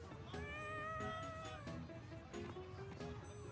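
A cat meows in Tales of Xillia 2, a few soft, faint mewing calls over background game music.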